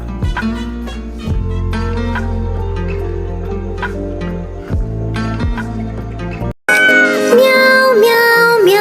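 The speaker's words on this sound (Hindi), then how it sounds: "बिल्ली करती म्याऊ" Cat meowing in a Hindi children's rhyme: repeated bright meows over a musical backing, loud and close, with a brief silence before a sung, meow-like melodic section.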